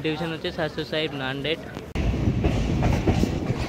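The Narsapur–Nagarsol Express passenger train pulls out of Jalna station. A spoken announcement comes first, then a loud, continuous rolling rumble with rail clatter is heard from on board.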